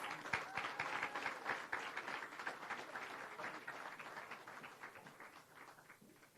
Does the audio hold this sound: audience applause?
yes